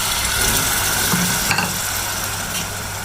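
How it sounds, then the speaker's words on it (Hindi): Masala sizzles and fries in hot oil in a pot, with a steady, close crackling hiss and some stirring scrapes throughout, and no voices. "अभी ये जैसे ऑयल गर्म हो, हमने इसके अंदर मसाला डाला है।"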